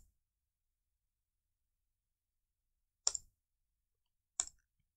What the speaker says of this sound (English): press shift and click once